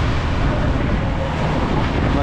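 Fishing boat (bangka) engine running under way with a newly fitted transmission, a steady loud broadband drone of motor, hull and wind noise that continues without a break.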